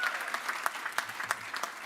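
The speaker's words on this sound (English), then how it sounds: "So could you give that a round of applause?" A graduation audience at the University of West London applauds steadily, a dense wash of many hands clapping at an even level for nearly two seconds with no voices over it.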